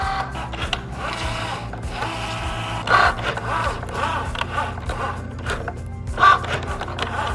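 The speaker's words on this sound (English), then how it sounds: "Now you are just going to slide this into your Cricut machine." A Cricut machine cutting Smart Permanent vinyl gives a steady mechanical whir with a low motor hum, and brief louder bursts of carriage movement come and go across the cut.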